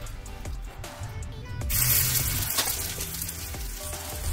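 Tikki patties fry in oil in a pan over a low gas flame. A continuous close sizzle grows louder partway through and holds steady, with no voices.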